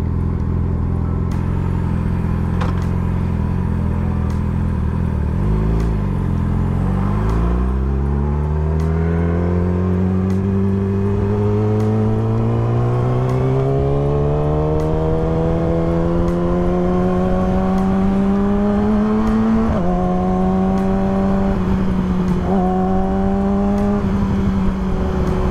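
A single car's engine drones up through the gears in road traffic, its steady rising pitch dropping at each shift, close and loud with no voices.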